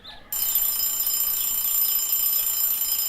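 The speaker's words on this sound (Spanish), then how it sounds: "sonó el despertador en casa de la hormiga" An alarm clock in a home starts ringing after a brief quiet moment, a loud, steady, high-pitched electronic ring holding at constant level to the end, with no talking.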